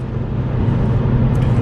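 Steady low engine drone and road rumble from inside a car being driven, holding a constant level throughout with no talking.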